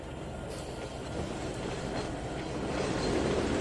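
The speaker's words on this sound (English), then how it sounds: "Now these diesels are going on track 3." Diesel locomotives roll along a track in Trainz 2019, a steady low rumble and rattle of wheels that grows slightly louder toward the end, alone without speech.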